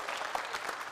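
Audience applause at a New Year concert show, a steady even patter of many hands clapping throughout, fairly loud with no voices over it.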